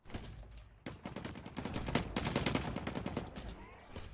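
Gunfire in the video game The Cycle Frontier: rapid bursts of shots crackle in quick succession, fairly quiet overall, building into a sustained volley in the middle before thinning out.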